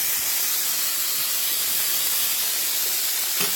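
A chuck roast sears in a cast iron skillet, a loud, steady, close hiss of sizzling fat and meat throughout with no talking.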